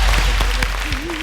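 An audience claps for a comedy team on a stage show, a brief burst of broadband applause mixed with voices, close and fairly loud.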